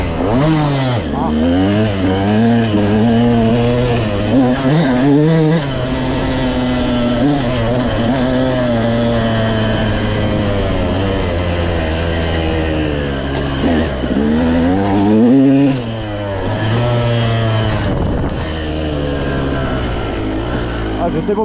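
A KTM 200 EXC two-stroke dirt bike revs hard and close while riding, its engine note rising and falling continuously through gear changes and throttle blips for the whole stretch.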